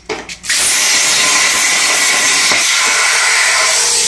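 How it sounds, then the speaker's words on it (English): A Torchmate CNC plasma cutter with a plate marker and corner lockout cuts bolt holes in a shop, giving a loud, steady broadband hiss and roar that starts after a brief sputter and runs continuously without talk. "So it's cutting some bolt holes right now."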